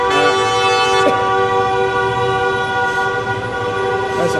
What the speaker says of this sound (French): j'espère que vous nous entendez quand il y a des klaxons